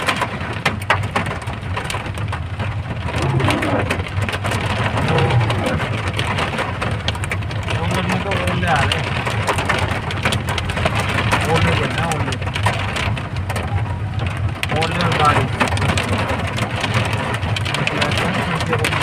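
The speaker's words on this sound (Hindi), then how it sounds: "बारिश के साथ ओले पड़ रहे हैं" Heavy rain mixed with hail pours down steadily in Solan, Himachal Pradesh, India, a dense, unbroken roar of drops striking surfaces close by for the whole stretch.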